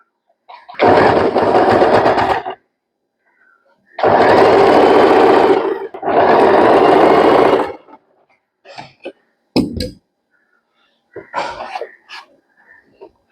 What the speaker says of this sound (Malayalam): നമുക്കിതൊന്ന് സ്റ്റിച്ച് ചെയ്ത് വെക്കാം. ഞാനൊരു സിഗ്സാഗ് സ്റ്റിച്ചാണ് സെലക്ട് ചെയ്തിട്ടുള്ളത്.